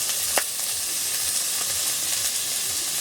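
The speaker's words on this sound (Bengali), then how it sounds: "আর একটু সাদা তেল চিংড়ি মাছটাকে হালকা করে ভেজে নেব" Shrimp fry in white oil, a steady close hiss and sizzle with a few brief pops and clicks from stirring.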